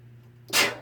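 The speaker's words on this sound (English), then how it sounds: "I'm gonna sneeze." A single sharp, breathy sneeze bursts out after a quiet moment with a low steady hum in the background.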